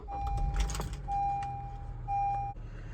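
Keys go into the ignition of a 2012 Honda CR-V Touring with a brief metallic jangle, followed by a steady electronic chime that sounds in short repeating stretches over a low cabin hum.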